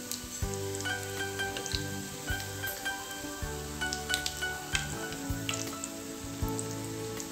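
Potato rava fingers, semolina and potato sticks, frying in hot oil until golden on both sides, give a steady close sizzle with soft crackles, alone with no talk and a low hum running beneath.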